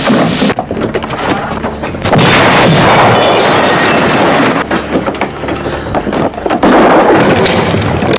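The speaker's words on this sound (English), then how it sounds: "the stranger had rigged the room with dynamite and immediately sets it off" A loud, sustained dynamite blast in a room roars with rumbling debris, then a second burst follows; dense, close and overwhelming.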